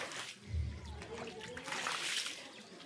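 Water splashing and sloshing while a roof is washed, soft uneven splatters and trickles with voices and a low thump early on.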